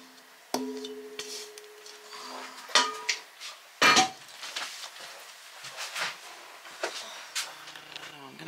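A metal baking pan of lemon squares clanks and scrapes as it slides into the oven, with several sharp knocks and softer rattles spread across the moment.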